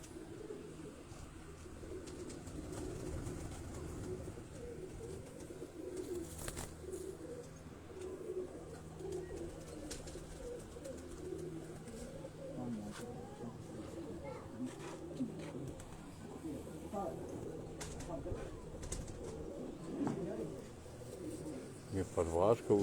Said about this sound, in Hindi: ये कबूतर हम दिखा रहे हैं